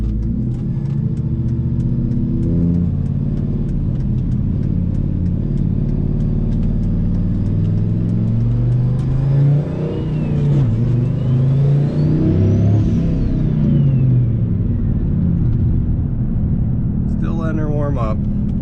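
Turbo VIP car with a Fender Dump exhaust driving around, a steady loud engine rumble inside the cabin rising and falling with acceleration and a turbo whistle, with brief talk near the end.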